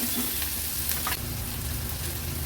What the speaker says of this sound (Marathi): थोडासा कांदा मी हा परतून घेते